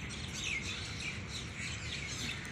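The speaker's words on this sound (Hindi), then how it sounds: "देखो भाई कितनी सारी चिड़िया। ये कौवा भी आ गया।" Many birds chirp and tweet steadily in a garden in Ashok Vihar Phase III, with a crow among them. The calls are faint and continuous over quiet background noise.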